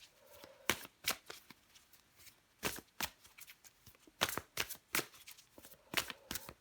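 A deck of tarot cards is shuffled close up and quietly, with a string of crisp riffling flicks and soft slaps in irregular bursts and little else around them.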